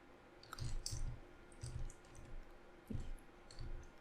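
A computer mouse clicks several times in small groups, crisp and close, over a quiet room hum with no talking.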